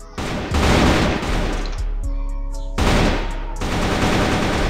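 Rapid bursts of gunfire in a shooter video game: loud automatic volleys with a short pause between them, close and dense, with no voices over them.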